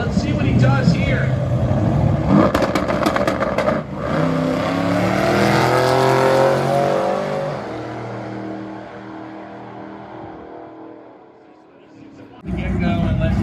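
A 1964 Gasser Nova drag car launches down a drag strip with a loud roaring engine, climbing through the gears and fading into the distance before the next car starts up. An announcer talks over it.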